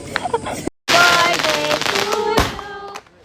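A single sharp firecracker bang bursts near the end of a lively birthday celebration, heard amid clapping and people talking nearby.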